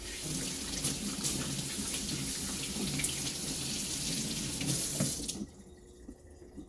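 Tap water runs steadily into a kitchen sink as food is rinsed, a continuous hiss that stops abruptly near the end, leaving only a faint room tone.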